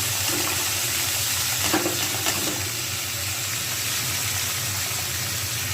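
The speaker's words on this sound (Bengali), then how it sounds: "এর মধ্যে আর সবজিগুলো দিয়ে দেব" Vegetables dropped into a pan of hot oil tempered with five-spice, cardamom, bay leaf and ginger paste fry with a steady broadband sizzle, a brief clatter near the middle, no voices.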